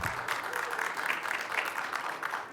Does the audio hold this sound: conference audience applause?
yes